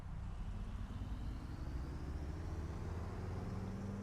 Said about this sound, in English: it sounds more like a V8 than a nuclear powered car